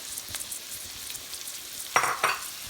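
Chopped cabbage is tossed into a sizzling pan of Indian-style fried rice over a medium-high flame, giving a soft steady fry with two sharp, brighter bursts of sizzle and stirring near the end.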